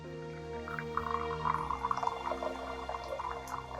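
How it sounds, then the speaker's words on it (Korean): Water poured from a kettle into a ceramic teapot during a traditional tea ceremony, a steady trickling pour lasting a few seconds against a low background hum. "그리고 다관에다가 물을 부어줍니다"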